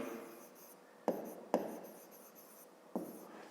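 A pen writes a math expression on paper in short scratchy strokes, with three sharp taps of the pen against the surface, close and quiet, with no voices.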